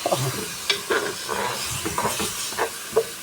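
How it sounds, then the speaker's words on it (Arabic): Spices go into a hot pan of sizzling chicken pieces for a white bean dish, giving a close, steady sizzle broken by scraping stirs and soft bursts of hissing. "انزل بالتوابل كلها كده اللي احنا قلناها في اول الفيديو"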